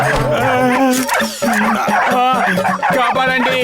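Cartoon dogs in a Motu Patlu episode bark, yip and whimper loudly and continuously during an attack, mixed with voices.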